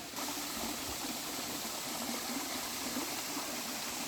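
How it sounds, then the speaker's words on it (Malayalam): Stream water running toward the Thoomanam waterfall makes a steady, dense rush and splash that holds evenly close by for the whole stretch, with no voices over it. "തൂമാനം വെള്ളച്ചാട്ടം ചാട്ടത്തേക്കുള്ള വെള്ളമാണ് ഇപ്പോൾ ഈ പോണത്"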